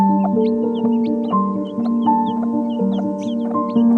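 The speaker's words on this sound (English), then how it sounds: "When she clucks softly, the chicks come running." A free-range hen clucks steadily nearby in a rhythmic series of low calls to her chicks, with faint chirps from other birds in the background, in Udayapur.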